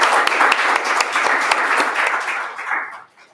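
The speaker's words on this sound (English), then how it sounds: "Can we have another round of applause for Chaitanya, please?" An indoor meet-up audience gives a presenter a round of applause, with close, crisp clapping that holds steady and then tapers off to near silence at the end.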